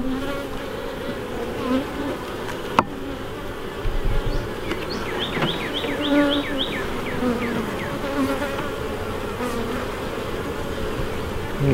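Honey bees buzz steadily around an opened hive during an inspection, a dense continuous drone close to the microphone with individual bees whirring past now and then.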